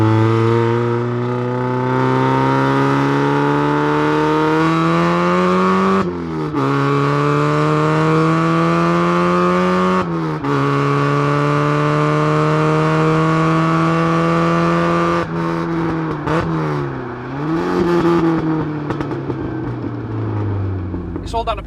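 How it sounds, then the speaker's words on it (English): A supercharged Mazda MX-5 Miata engine drones loudly and up close while driving, its pitch climbing and dipping through repeated revs with brief breaks between pulls. "I wanted Kenny to drive it with the setup it is now."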